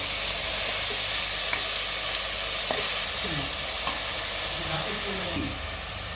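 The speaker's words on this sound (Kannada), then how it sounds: "ಈಗ ಮೆಂತ್ಯ ಸೊಪ್ಪನ್ನ ಸ್ವಲ್ಪ ಫ್ರೈ ಮಾಡ್ಕೊಳ್ಳೋಣ." Fenugreek leaves and onion frying in a pan for a rustic-style methi dish, a steady loud sizzle and hiss throughout with occasional stirring scrapes, and a voice speaking faintly in the background.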